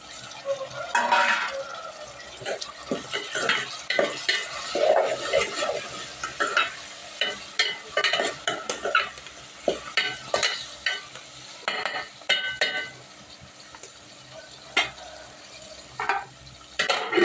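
Broad beans (chikkudu) fry in a pan while being stirred, a steady sizzle under repeated scraping and clattering of the spoon against the pan, close and busy throughout with no talk.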